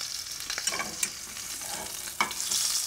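A rack of lamb sears in a hot pan, a soft, steady sizzle with a few sharp pops and crackles, quiet and close, no voices.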